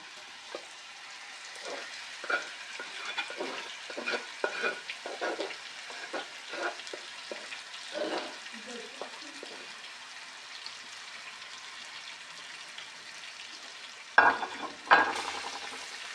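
Marinated chicken, garlic and ginger cook in a pan, heard as soft, low sizzling with a series of irregular stirring clatters and scrapes, quiet and close, ending in two sharper knocks.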